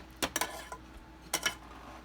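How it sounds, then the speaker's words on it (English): A ladle clinks against crocks while French onion soup is served, with a few light, sharp metallic taps in two small clusters, quiet and close, with no voices. "You're just gonna fill your crocks."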